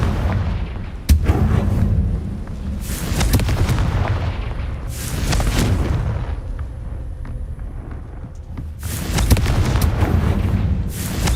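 A blasting curse explodes in the video game Hogwarts Legacy, with several loud booming bursts rolling over a continuous rumbling background.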